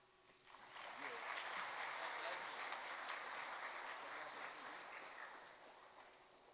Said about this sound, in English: a big round of applause for Griffin Middle School